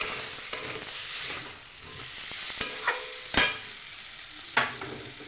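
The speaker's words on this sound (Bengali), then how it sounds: "ভালো করে মশলা দিয়ে কষিয়ে নিয়েছি।" Spices stirred and browned in a kadai for a Bengali egg and potato curry: a continuous close sizzle broken by several sharp spatula scrapes and clacks against the pan, no voices.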